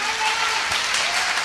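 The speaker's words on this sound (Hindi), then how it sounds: "मैं चाहूंगा सर के लिए एक जोरदार तालियां।" A crowd at an event applauds loudly and steadily, a dense wash of clapping without pause.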